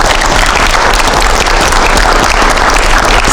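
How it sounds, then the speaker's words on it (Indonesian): A studio audience at a television talk show claps steadily, a dense, loud wash of applause holding evenly from start to finish. "Oke, kita kasih tepuk tangan dong."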